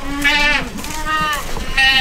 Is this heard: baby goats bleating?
yes